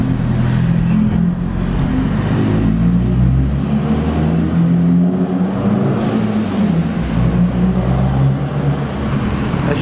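VW Golf MK6 TDI diesel engine idling and revving inside a garage, a loud enclosed low rumble with a few rises in revs, steady throughout with no talking.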